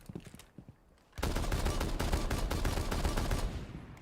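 Rapid automatic gunfire in a video game bursts in after a quiet second and keeps going as a dense, loud, continuous spray for about three seconds of recoil control practice.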